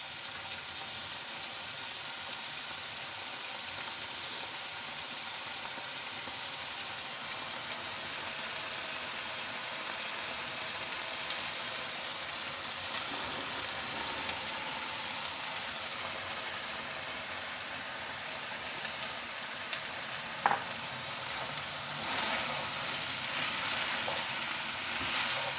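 Steady, rain-like sizzling of potatoes frying with chicken keema in a pan, a continuous even hiss throughout with a couple of faint clicks near the end.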